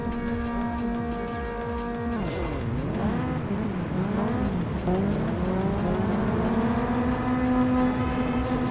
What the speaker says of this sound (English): as long as you're accelerating, then you're using nitrous and you're boosting